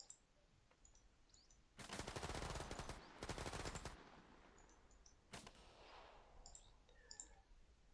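Video game gunfire from an attack-and-defend battle: two dense, loud bursts of rapid automatic fire lasting about a second each, then a single sharp shot, over a quiet ambient background.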